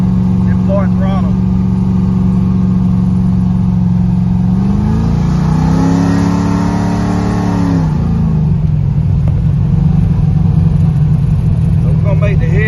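Carbureted V8 engine fitted with a 950 CFM carburetor, revving loud and close at full throttle, its roar climbing to a peak midway and then dropping back to a rumbling idle, with a voice briefly audible.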